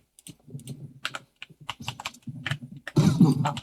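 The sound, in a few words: typing on a computer keyboard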